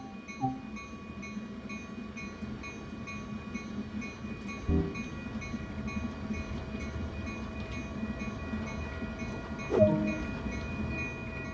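A bi-level cab car train in Train Sim World rolls along with a low steady rumble, faint tonal hums and occasional clunks, moderately quiet and without speech.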